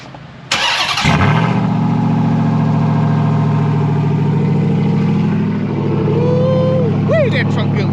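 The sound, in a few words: Ram TRX pickup truck engine idling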